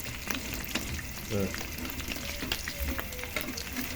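Tilapia pieces frying in hot oil until golden brown, a steady close crackle and sizzle with faint stirring clatter.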